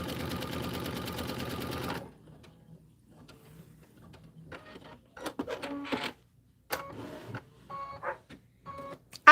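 A sewing machine stitching a quilt border runs in a steady rapid mechanical whir for about two seconds, then falls quiet, followed by scattered clicks and small handling noises.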